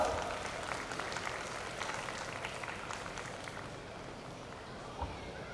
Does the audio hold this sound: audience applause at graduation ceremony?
yes